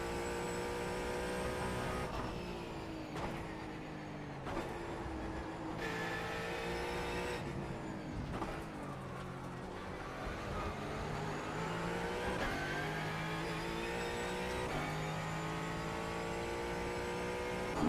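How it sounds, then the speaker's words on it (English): A Ford Mustang GT4 race car at Road Atlanta in iRacing roars steadily, its engine note climbing through gears with short dips at each shift, loud and continuous with no voices. "Mustang's just got some power on this straightaway."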